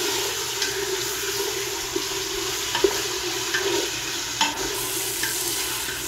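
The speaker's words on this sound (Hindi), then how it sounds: "इसमें अब हमने बीफ ऐड कर देना, और बीफ को हमने 2 से 3 मिनट के लिए भूनना है इसमें" Beef sizzles and fries steadily in a pan for kabsa, a constant crackling hiss with a few soft clinks of stirring, close and alone without any talk.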